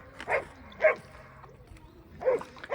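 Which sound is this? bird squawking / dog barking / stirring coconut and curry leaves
dog barking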